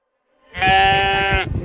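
A young male sheep on an Argentine farm lets out one long, loud, wavering bleat up close, lasting about a second, with faint rustling after it.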